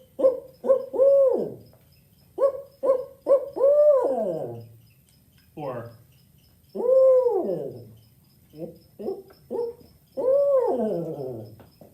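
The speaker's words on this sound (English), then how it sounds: "if you ever hear that call as you're going around the forests or just your backyard at night" A series of loud, rhythmic barred owl hoots, several phrases of rising and falling calls with brief gaps, close and clear, ending in drawn-out descending notes.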